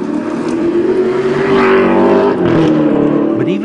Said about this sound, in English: a short spin in this limited edition Alfa Romeo